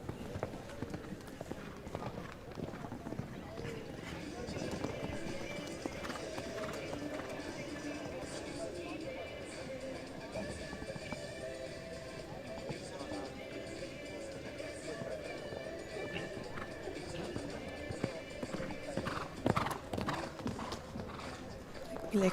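Horse cantering around a show jumping arena at an adult championship, with soft, steady hoofbeats running under continuous commentary and a general arena hum.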